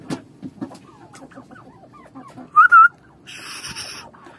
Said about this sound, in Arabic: طبعا شايفين الديك